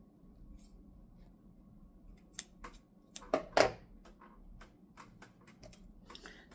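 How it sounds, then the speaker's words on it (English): Scissors snip through excess fabric on a Christmas sewing project, a few sharp close cuts clustered in the middle over a quiet room background, with no talking. "I'm just trimming this extra material that you can see."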